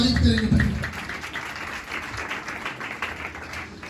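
A church congregation applauding during a sermon, a dense wash of clapping that is loudest at the start and then thins into a softer, steady patter.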